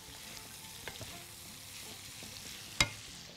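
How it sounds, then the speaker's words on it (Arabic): Chopped coriander and parsley being stirred in a frying pan, a soft sizzle with a few light scrapes and one sharp clack near the end, quiet and without speech. "انا هفضل اقلبه عشان مش عايزاه يتلسع"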